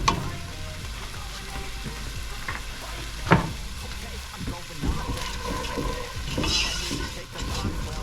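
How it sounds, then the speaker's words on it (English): Diced onion sautéing in olive oil in a pan, a low steady sizzle with occasional stirring scrapes and a sharp knock partway through, close and moderately quiet. "let's go ahead and add in the olive oil and that diced onion that we diced up earlier. And we're going to saute that until it begins to caramelize."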